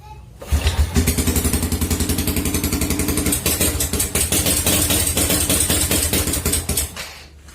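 A Suzuki Supra Fit motorcycle with a hot-engine misfire fault starts up and idles, a loud, close, rapid put-put with slight unevenness throughout before cutting off.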